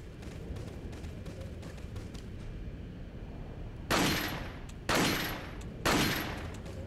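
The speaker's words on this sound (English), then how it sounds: "Fuck it, use a pistol." Three loud, sharp pistol shots ring out about a second apart in Resident Evil 4 Remastered, each with a short decaying tail over a low, steady game ambience.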